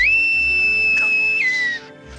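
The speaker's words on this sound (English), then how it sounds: "There is something about that whistle that puts me right in the world" A whistle blown in one long, loud, steady shrill note that slides slightly upward before cutting off, clear and close with nothing else over it.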